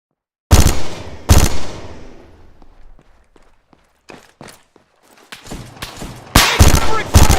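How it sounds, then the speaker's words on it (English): Gunfire in the video game ArmA 3: two sharp, loud shots ring out with long decaying echoes, followed by quieter scattered pops and thuds, then a dense closing burst of automatic fire. "Taking heavy fire here!"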